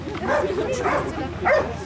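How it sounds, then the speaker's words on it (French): A firefighters' search-and-rescue dog barks in a few sharp, evenly spaced yelps, close and fairly loud, with voices talking and murmuring in the background. "le chien reste et il aboie jusqu'à temps que le maître arrive"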